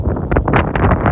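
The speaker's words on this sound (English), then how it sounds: "Sorry, get out from the wind." Gusty wind buffets the microphone outdoors in the village of Sainte-Mère-Église, a loud, continuous low rumble with uneven surges throughout.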